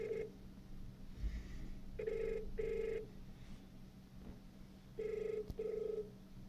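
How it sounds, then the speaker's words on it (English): A Cisco SPA525 desk phone's handset plays a ringback tone: two pairs of clear beeping rings separated by quiet gaps, with a soft click and faint background hum. "Okay, so it's now dialing."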